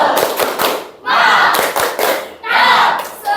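A classroom of students performs the rhythmic 'tepuk semangat' spirit clap, loud bursts of hand claps in a patterned beat with thumps and some voices chanting along.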